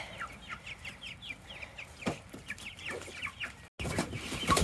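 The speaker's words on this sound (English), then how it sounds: "The poor meat birds also did not get fed yesterday." A flock of hungry meat chickens in a farm pen clucks and chatters rapidly, overlapping and close by, with a brief dropout before a louder burst of clucking and rustling.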